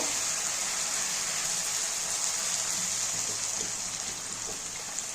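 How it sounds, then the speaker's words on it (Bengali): Water gushes steadily into a pan of cooked-down spiced masala for a Bengali fish-head and potato curry, giving a continuous, fairly loud pouring hiss that eases slightly near the end, with no talk over it. "এবার আমি জল দিয়ে দেব।"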